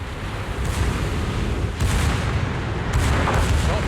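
Naval gunfire from a warship in World of Warships: low booming blasts rolling in near-continuous waves, with heavier bursts around two and three seconds, loud and without any talk.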